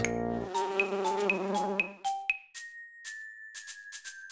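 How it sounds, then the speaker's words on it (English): A buzzing, bee-like drone pulses for a couple of seconds in a children's song, followed by bright tinkling chime notes in a playful rhythm. "Bee, bee. Bzzz."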